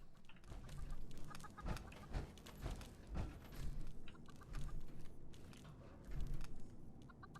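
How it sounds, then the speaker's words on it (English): Chicken in the video game Fallout 76 clucks repeatedly in short, irregular bursts, fairly close and moderately loud over a faint background. "I hear this chicken somewhere."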